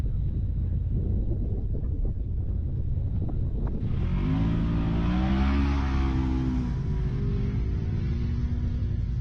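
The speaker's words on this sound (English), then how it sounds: "The Can-Am 4900 UTV class is heading out for their first lap." Can-Am UTV race engines rev and accelerate away at the start of a lap in a 4900 class dirt race at Cross Bar Ranch, a loud rising mechanical roar over steady wind noise.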